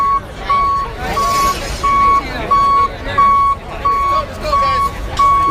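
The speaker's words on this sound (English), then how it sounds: "This flatbed truck is famous." A flatbed truck reversing downtown in Los Angeles, its backup alarm sounding eight regular loud beeps over street noise and engine rumble.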